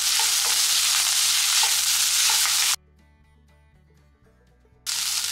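Mussel thoran being stirred in a pan with cooked grated coconut, a loud steady sizzle and scraping that cuts out for about two seconds to quiet tones, then returns.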